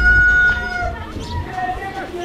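A rooster crows and chickens cluck nearby, with a steady low rumble and faint murmuring underneath.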